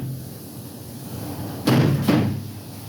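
A multi-slide glass porch door being slid along its track, two quick rolling rumbles with a clunk as the panels catch, close and fairly loud, with no speech.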